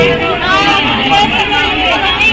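Crowd hubbub at a packed Ram Navami religious gathering, a dense, steady babble of many voices filling the space at close range without pause.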